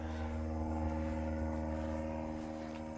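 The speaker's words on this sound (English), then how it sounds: "Little airplane going on overhead, going by." A small propeller airplane passing overhead outdoors near a garden, a steady faint droning hum that holds evenly throughout with no talking.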